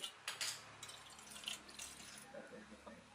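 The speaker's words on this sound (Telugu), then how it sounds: "కొంచెం వాటర్ పోసుకుని" Quiet splashing of water poured into a bowl, with a few soft clinks, faint and close.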